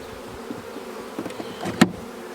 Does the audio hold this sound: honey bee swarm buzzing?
yes